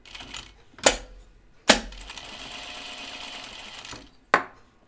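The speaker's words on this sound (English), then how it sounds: "I'm just kind of stitching on that stripe, just kind of hide it a little bit." A sewing machine stitches a stripe onto a 1940s-style dress, its steady whirring run lasting a couple of seconds between sharp clicks and knocks of handling, close and moderately loud with no talking.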